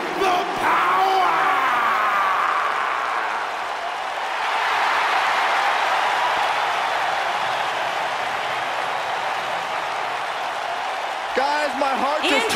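Arena crowd in the WWE 2K19 wrestling video game claps and cheers in a steady, loud roar that swells midway, with an announcer's voice over it early and again near the end.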